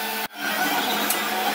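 Snapmaker 2.0 3D printer mid-print, its steady fan and motor hum briefly cut by a short dropout before continuing with a faint whirring hiss.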